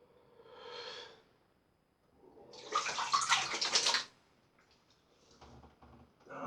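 Cold tap water runs in short bursts during shaving: a brief splash, then a louder, steadier rush lasting about a second and a half, with soft clinks and movement in between, close and fairly quiet.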